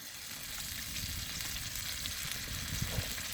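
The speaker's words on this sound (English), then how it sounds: "I'm just gonna pop it in that pan with some olive oil" Bread frying in olive oil in a pan over a campfire, a soft continuous sizzle and crackle at low level with faint pops, no voices.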